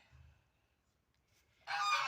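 A loud, harsh honking quack bursts out near the end after quiet stretches with faint low grunting, close by.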